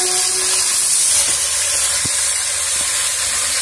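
Chicken dropped into hot oil for a Guntur gongura chicken curry, giving a steady, loud, broad sizzle and hiss throughout with a few faint clicks underneath.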